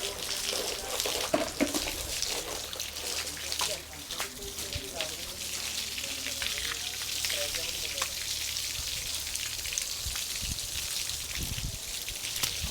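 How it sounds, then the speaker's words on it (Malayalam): Steady broadband hiss of water sprayed from behind while washing a buffalo, continuous and fairly close, with brief indistinct voices underneath. "അപ്പോൾ നമുക്ക് ബാക്കിൽ നിന്ന് വെള്ളം അടിച്ച് തുടങ്ങാം."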